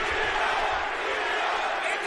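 Boxing crowd in an arena reacting during a bout, a dense, sustained roar of many voices at steady loudness.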